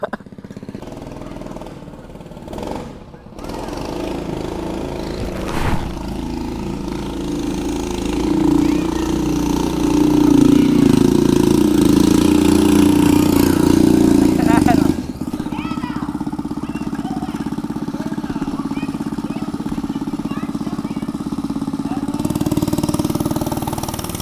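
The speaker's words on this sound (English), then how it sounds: "Look at the fucking dirt bike" A dirt bike engine with a homemade exhaust runs loudly and roughly in a snowy yard, revving and idling for a long stretch while people talk and exclaim over it.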